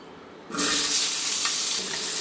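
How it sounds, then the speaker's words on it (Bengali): Potatoes hit hot oil in a pan, bursting into loud, steady sizzling that hisses continuously after a quiet start. "আমি আলুগুলি ভাজার জন্য দিয়ে দেবো"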